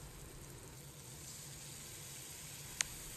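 Teriyaki sauce simmers in a pan with pan-fried chicken wings, onion and ginger, giving a faint, even sizzling hiss with a single sharp click near the end.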